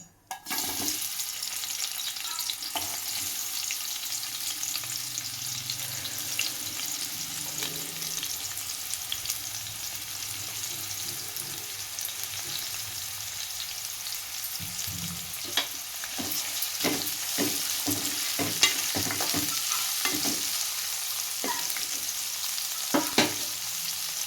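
Chopped large onions sizzle steadily in hot oil for a goat head curry, with a spoon scraping and stirring through the pan and clattering more in the second half, no voices present.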